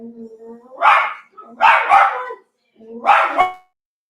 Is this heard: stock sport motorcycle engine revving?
no